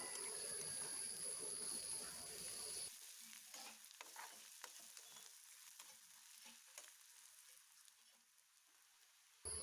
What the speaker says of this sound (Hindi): अभी इसमें डालूंगी पिसा हुआ लहसुन और प्याज को इस तरह से मिक्स कर दूंगी